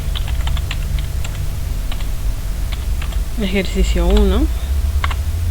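Quick clicking keystrokes on a computer keyboard as a folder name is typed, light taps scattered throughout under a steady room hum, with a voice speaking briefly midway.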